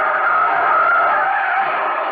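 A car brakes hard in an old-time radio drama effect, its tires skidding in one loud, sustained screech that holds steady for about two seconds with no voices over it.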